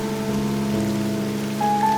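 A video game storm patters steadily with rain, a continuous even wash of drops against a low hum, with a brief tonal shift near the end.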